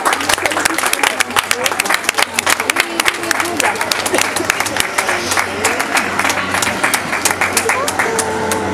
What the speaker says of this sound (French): Allez, on les applaudit bien fort toutes.